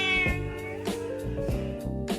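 A domestic cat meows insistently for food in a Kerala home kitchen, giving several drawn-out, wavering meows close to the listener.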